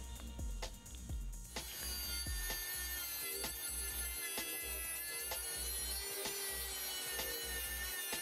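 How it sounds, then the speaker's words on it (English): A Dremel rotary tool cuts small metal brackets for an LED studio light build, a steady high-pitched grinding whine that runs throughout, with rhythmic pulsing and scraping close to the microphone. "After cutting with the Dremel,"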